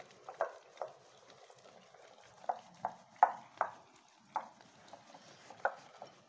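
Rice flour batter for crispy fritters being stirred by hand in a bowl, with soft, irregular wet clicks and scrapes at a low level.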